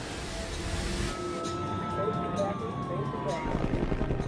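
Ambulance sirens wail during a mass evacuation of survivors after an airliner crash, with a helicopter also in the mix; the rising and falling siren tones carry steadily through a dense, continuous background roar.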